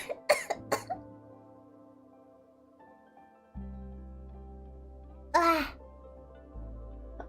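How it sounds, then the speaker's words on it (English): A few sharp dry coughs in quick succession at the start, then a quiet stretch with a low hum, and another short burst of coughing later on. "Sorry, this dry cough is forever."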